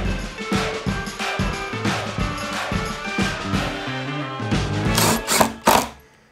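A cordless drill drives screws into a French cleat frame, its motor whining loudly in repeated rising bursts that end in a sharp clatter.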